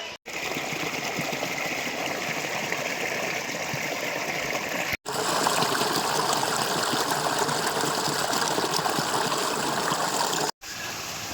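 Water rushes steadily at a Courtallam waterfall where a pool forms below the falls, a loud, continuous broadband roar that fills the whole stretch with only brief breaks.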